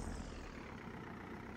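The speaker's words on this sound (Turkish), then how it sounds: "çok torklu bir traktörümüz" A high-torque tractor engine runs during farm silage work, a steady low broadband rumble that is faint and continuous, with no voices.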